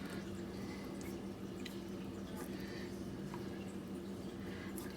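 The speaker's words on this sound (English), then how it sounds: "just rinsing it with cold water at the moment" Cold water running and dripping over rose hip dyed fabric being rinsed, a steady close wash of splashing and trickling that continues without a break and has no voices.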